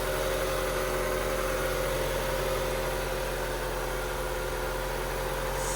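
A high-mileage 2003 Honda CR-V engine, fitted with new ignition coils and spark plugs, idles steadily and close by, giving a constant low drone with a faint vibration and no speech.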